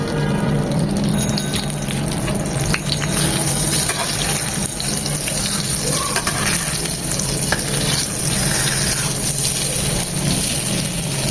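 Eggplant slices shallow-frying in hot oil over medium heat, a loud, dense and continuous sizzle heard up close, with faint occasional spatters and no voices.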